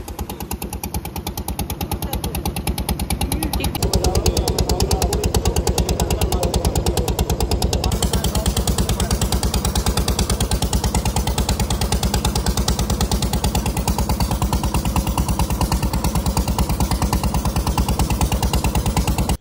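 Motorboat engine on a river trip to Lalganj near Kolkata, a loud, steady, rapid mechanical chugging that runs unbroken throughout, close by, with no talk.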